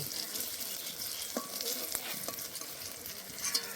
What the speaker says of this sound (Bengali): বেগুনগুলো বেশ রং ধরিয়ে ভেজে নিয়েছি, এবার তুলে নেব।